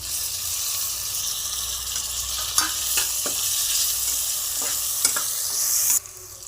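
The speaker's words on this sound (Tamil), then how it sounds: "இப்போ வந்து ஒரு தக்காளி போட்டுக்கலாம்." Chopped tomato sizzles in hot oil for a Tiruppur-style mutton curry, with a steady loud fry broken by occasional scrapes of a stirring spoon, close by, until the sizzle drops suddenly near the end.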